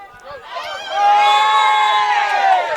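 Crowd at a women's college soccer match rising into a loud roar and cheer after a short murmur, with excited shouts layered over a swelling wall of voices.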